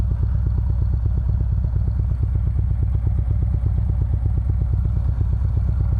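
A 2013 Harley-Davidson Road King CVO motorcycle on a test ride, its engine thumping in a steady, loud, close-up pulse that holds at a constant cruising pace with no voices over it.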